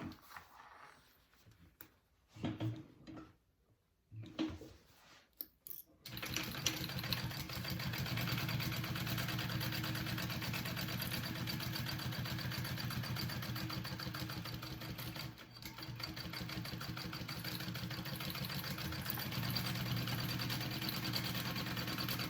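After a few soft handling noises, a sewing machine runs steadily and close for a long stretch, basting fabric pieces of a bowler bag with an even rapid whirring rhythm and no speech.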